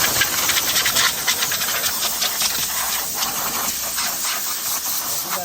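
Compressed air blowing through the engine bay of a Changan Q-05 during an oil change, a loud, continuous broadband hiss held close without pause.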